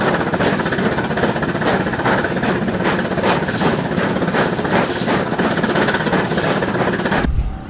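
A 1913 steam snowplow climbing a steep 110% rack grade in Switzerland, pushed by a century-old rack locomotive, gives a loud, continuous mechanical grinding with regular rhythmic beats that cuts off abruptly near the end.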